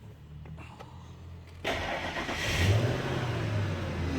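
A 2000 Ford F150 with a cylinder 1 misfire code cranks briefly and catches, then settles into a steady, close engine run with some revving after the start.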